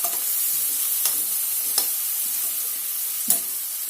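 Onions frying with turmeric in oil, a steady bright sizzle broken by a few distinct spoon clinks and stirs against the pan, close and continuous.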